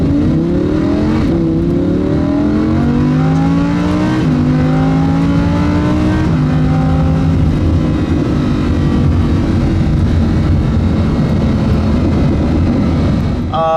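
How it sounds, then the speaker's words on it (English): Lamborghini Huracan engine revving loudly with rising harmonic sweeps broken by quick dual-clutch upshifts, each shift dropping the pitch with a slight snap, then settling into a sustained steady roar. "when you're shifting in the Huracan, you'll notice I get a little bit of a snap"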